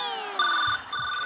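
A phone ringtone plays briefly, a bright electronic two-part melodic chime rising clearly over a quiet background in a stage comedy setting.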